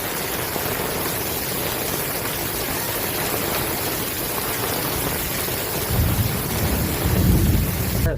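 Heavy rain pours steadily in Vallabhipur with strong gusting wind, and a deep thunder rumble swells in toward the end over the constant roar of the downpour.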